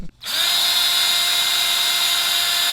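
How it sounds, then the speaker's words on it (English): A power drill whirs steadily at high speed for a couple of seconds, drilling a hole in a Mazda2 engine cover, close and loud, with a sharp start and abrupt stop. "Drill the hole here, and on the back side right there for zip tying purposes."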